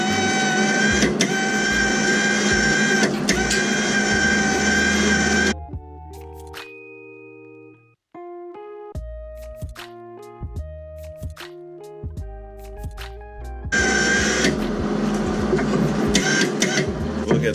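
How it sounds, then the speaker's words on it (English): A Hobart Handler 140 MIG welder runs its wire feed out at roughly 400 inches per minute, giving a loud, steady mechanical whir in two long stretches with a quieter tonal passage between them. "hit the trigger, and we'll run the line all the way out."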